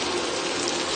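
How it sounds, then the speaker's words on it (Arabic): An electric kettle heats water in a kitchen while a broad bean stew is being cooked, giving a steady, faint hissing and bubbling rush with no voices. "هاي صوت الغلاية اكيد تسمعوه"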